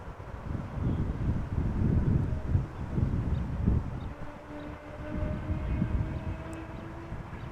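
A United Airlines Boeing 787 at Amsterdam Schiphol gives off a steady low rumble with a faint tonal whine, moderately distant and blended with wind noise, swelling slightly and holding through the whole stretch.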